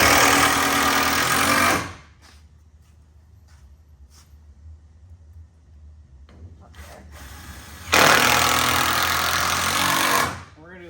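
A power drill drives 2-inch screws into a chicken coop roof board in two loud, steady whirring bursts, each about two seconds long, with quieter handling sounds in between.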